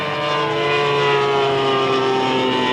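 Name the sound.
scale model Fairey Gannet aircraft taxiing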